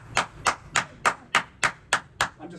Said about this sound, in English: I'm just clapping because I'm doing so good